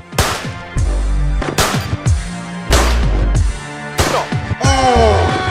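Loud gunfire rings out in a shooting video game: repeated heavy shots and short bursts crack in quick succession, each with a booming tail, close and dominant throughout.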